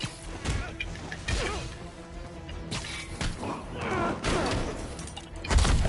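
Gunfire rattles in a Spider-Man video game amid thuds, impacts and mechanical clatter, with bursts of shots layered over a busy game soundtrack, moderately loud and continuous.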